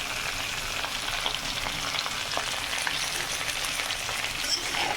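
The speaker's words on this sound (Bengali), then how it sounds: "এবার ভালো করে নাড়িয়ে নেব" Potatoes and fish fry in hot oil with turmeric and cumin powder as they are stirred, giving a constant bright sizzle with light scraping and crackle, fairly close and without talk.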